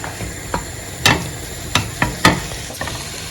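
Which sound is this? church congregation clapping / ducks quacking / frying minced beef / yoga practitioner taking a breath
frying minced beef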